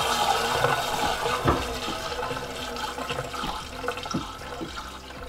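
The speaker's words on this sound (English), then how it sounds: "now turn that water back on" A newly installed toilet's tank in a barndominium refills after the water supply is turned back on, giving a soft, steady hiss and trickle of running water with a few faint knocks, all fairly quiet and close.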